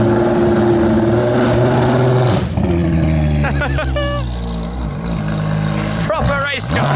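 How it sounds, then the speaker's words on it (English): A Ferrari 488 GT3 race car engine runs loud and raw throughout, a steady low drone with rising and falling revs, while people talk over it. "Oh, the 488 GT3 is coming. That is noisy."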